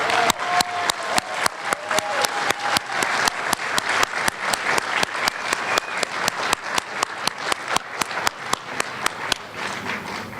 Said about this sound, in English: So let's keep that applause going so it's not awkward.